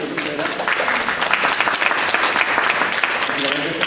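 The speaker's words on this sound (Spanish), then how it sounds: "pero primero nos aplausos por favor" Audience applause during a guided tour of a fine arts exhibition in Lima, a dense burst of clapping from a small indoor crowd, continuous throughout at close range.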